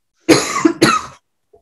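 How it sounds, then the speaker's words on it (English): Two loud, harsh coughs right up close, one after the other, each a rough rasping burst. "I'm going to cough."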